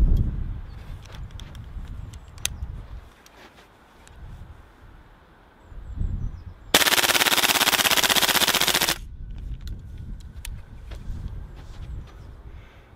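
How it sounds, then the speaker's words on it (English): Tokyo Marui M4 MWS gas blowback airsoft rifle emptying a magazine on full auto in cold weather: a dense, continuous rattling burst of about two seconds, loud and close, standing out from quieter handling noises before and after. "carried on again and emptied the magazine on fully auto"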